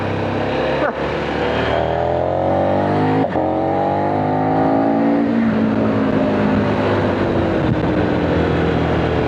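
A KTM Super Adventure 1290 motorcycle in sport mode on a coastal road, its engine revving steadily and rising and falling through gear changes, loud and close with constant wind rush.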